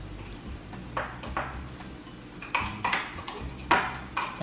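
Guacamole worked in a bowl with a utensil: a steady series of scraping strokes and clinks against the bowl sides at an uneven rhythm, close and moderately loud, no talk.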